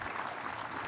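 Conference audience applauding: a dense, even burst of clapping from a crowd, continuous and fairly loud throughout.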